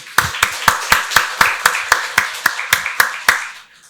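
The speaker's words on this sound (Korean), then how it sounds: "박수로 하나님께 영광 돌리겠습니다" Steady, rhythmic clapping during a Sunday church service, about a dozen sharp claps at an even beat, close and fairly loud, with no voices.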